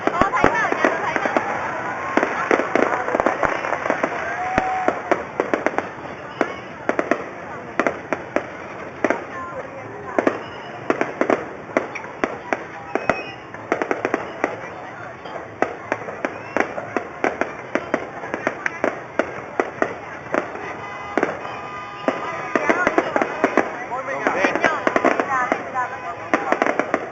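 Fireworks and firecrackers at a Mid-Autumn festival, a dense, continuous run of sharp cracks and pops, some louder bursts standing out, lasting nearly half a minute with a faint crowd underneath.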